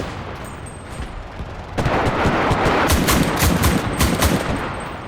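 Short, controlled bursts of gunfire in the World War II shooter Enlisted, quiet at first, then a sudden loud sustained rattle of rapid shots with sharp cracks through the middle.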